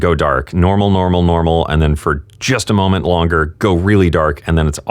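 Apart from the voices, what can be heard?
No distinct noise like a dog, phone or traffic.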